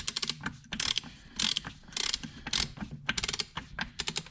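Sharp ratcheting clicks from a torque wrench tightening the crankshaft gear on a DS650 engine, in quick bursts with short pauses, close and fairly loud with no talk.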